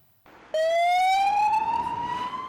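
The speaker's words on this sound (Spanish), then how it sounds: "Suenan sirenas en la ciudad de Leópolis, en el oeste de Ucrania" An air-raid siren sounds in the city of Lviv in western Ukraine, a loud sustained tone that rises slowly in pitch after a brief quieter onset, heard alone without talk.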